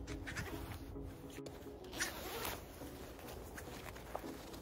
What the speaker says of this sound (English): inside there is a zipper on each side that you have to unzip